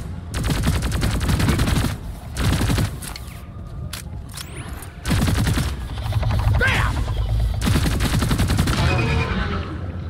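Rapid bursts of gunfire from a high-recoil gun in a first-person video game, loud sustained volleys in several long stretches separated by brief pauses.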